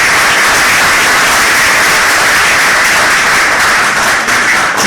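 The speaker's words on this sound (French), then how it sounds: "sous vos applaudissements," Loud, sustained audience applause for a guest of honour at a Senegalese movements' rally supporting Venezuela, dense clapping filling the room without a break and no one speaking over it.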